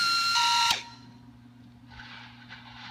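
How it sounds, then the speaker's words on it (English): A 4090 pneumatic rivnut tool installing a rivet nut gives a loud, steady high-pitched whine for about 0.7 seconds, then cuts off abruptly, leaving quiet background hiss. "So I'll pull the trigger, and then we'll have a properly installed rivet nut."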